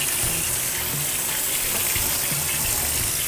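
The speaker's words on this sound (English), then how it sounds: "I'm gonna drain in the colander and then rinse it under cold water" Cold tap water runs steadily over two pounds of drained elbow pasta in a colander in a home kitchen, a constant close hiss and splash with no talking.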